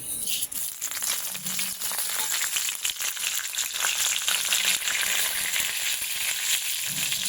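Mustard seeds fry in about one and a half tablespoons of hot coconut oil for a South Indian upma tempering, a dense, steady crackling sizzle with bursts of popping throughout, close and fairly loud with no talking.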